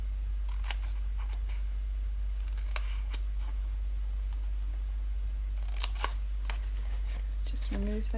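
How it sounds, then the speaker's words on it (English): Paper snips cut through paper squares for a card-making project, giving a few crisp, scattered snips and clicks against a steady low hum, with little else around them. "we're going to cut up the squares"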